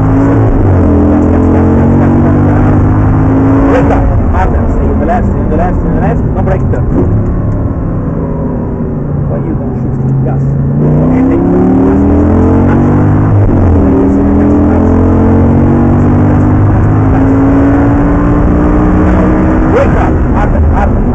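An Audi R8 is driven hard around a racing circuit, its engine roaring loud and close with rising and falling revs as it accelerates and shifts, a continuous throaty drone filling the whole stretch.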